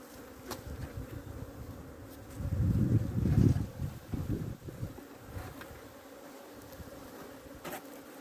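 Stressed honeybees buzz around a freshly opened hive during hive merging, a close, continuous drone that swells louder for a couple of seconds in the middle, then settles back to a steady hum.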